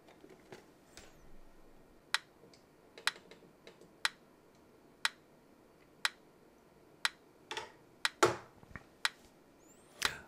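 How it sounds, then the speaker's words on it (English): The digital metronome built into a music keyboard ticks in sharp, evenly spaced clicks about once per second, close and crisp over a quiet background with a few fainter extra taps. "I'm using the digital metronome built into my keyboard right now."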